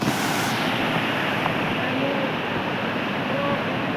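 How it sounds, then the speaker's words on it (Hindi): A large mountain waterfall in Himachal Pradesh plunges through clouds into deep gorges, making a loud, steady, unbroken roar that fills the whole stretch without pause. "सामने कितना बड़ा वाटरफॉल है, जो बादलों को चीरता गहरी खाइयों में जाता है"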